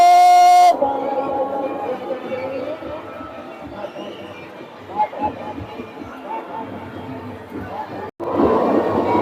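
A small fairground ride train rolls along amid a busy outdoor crowd at a night fair, with chatter throughout and a brief tonal whistle at the start.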